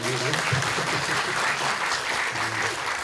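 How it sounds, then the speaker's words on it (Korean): An audience at a film preview screening at a CGV cinema claps in a dense, even burst of applause for a few seconds, with some voices faintly under it. "여기서 박수 한번 나오셔야 되나요?"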